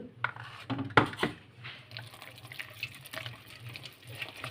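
Water is poured into a mixer grinder jar at close range, a splashing pour with light clinks of the jar and utensils in a few short bursts, then a softer trickle.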